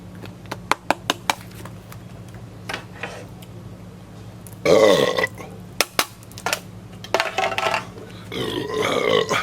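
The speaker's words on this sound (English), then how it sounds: "And that was a good burp." After a swig of beer, a man lets out a loud, close burp. A longer burp follows, with scattered clicks and handling noises around it.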